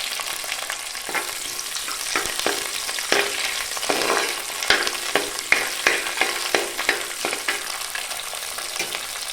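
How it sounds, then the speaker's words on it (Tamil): Chopped small onions, about 100 grams, hit hot oil with mustard seeds for tempering, giving a steady close sizzle dotted with crackles and pops, without talk. "இப்போ வந்து சின்ன வெங்காயம் சேர்த்து தாளிச்சிக்கலாம்"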